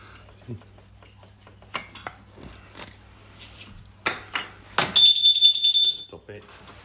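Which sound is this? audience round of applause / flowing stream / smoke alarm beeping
smoke alarm beeping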